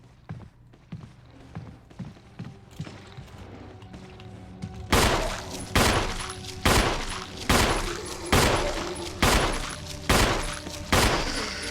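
Gunfire aimed at zombies in a hallway of the survival-horror game Resident Evil HD Remaster: soft, spaced thuds at first, then about eight loud, evenly spaced gunshots, each ringing out and decaying before the next.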